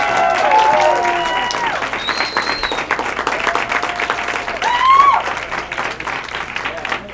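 Steady applause and crowd noise from an audience cheering the winners of a comedy improv competition, with a voice speaking over the clapping throughout.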